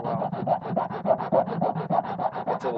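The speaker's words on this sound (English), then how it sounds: "this wood is actually soft enough that the fine file actually does a bit of material removal too" A fine file rasps across soft wood in short, even back-and-forth strokes, about ten quick scrapes close by with nothing else heard.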